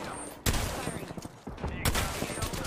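Bursts of rapid gunfire in the battle royale game Apex Legends, with one volley breaking off and a second heavy burst starting up close and loud.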